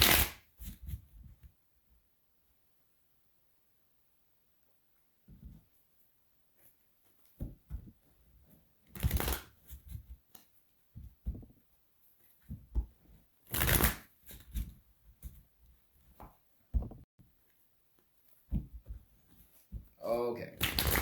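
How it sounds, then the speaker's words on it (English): Tarot cards being shuffled by hand in several bursts of crisp riffling and flicking, close and clear, separated by pauses with a person talking in between. "let's get 4 shuffles in for my Saggies"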